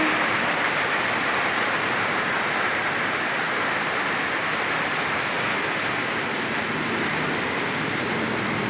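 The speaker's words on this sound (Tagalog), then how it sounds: "Ang lakas ng ulan." Heavy rain pours steadily in a dense, continuous roar of broadband hiss, close and loud throughout with no voices.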